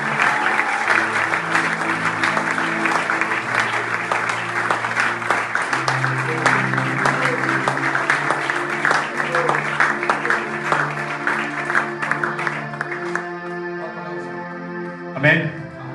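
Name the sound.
church congregation applauding for the Lord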